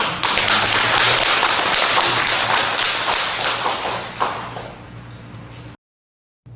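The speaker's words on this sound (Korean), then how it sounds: "박수 한번 해야겠습니다" A church congregation bursts into dense, sustained applause that holds steady for a few seconds, then gradually thins and fades before cutting to silence.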